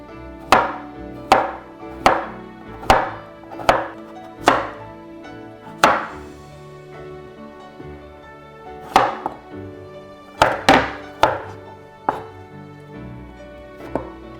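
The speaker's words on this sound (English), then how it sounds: "there's two ways to cut cucumbers. You can make circles." A knife slicing a cucumber into rounds on a cutting board, with about a dozen sharp, close chops coming in uneven clusters and short pauses between them, and no talking over them.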